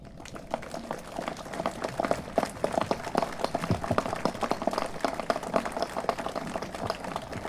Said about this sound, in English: Please welcome them with a round of applause.